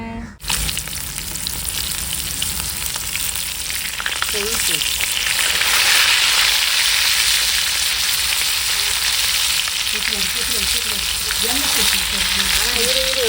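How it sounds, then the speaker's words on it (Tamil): Fish frying in a pan at home, a loud, steady broadband sizzle running throughout with brief faint voice traces in the background. "இப்போ மீன் வறுக்கலாம் வாங்க."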